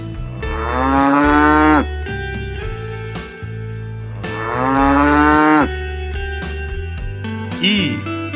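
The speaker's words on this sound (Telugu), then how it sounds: "ఆవు." A cow moos loudly and close by, two long, rising and falling bellows separated by a pause, followed by a short higher call at the end.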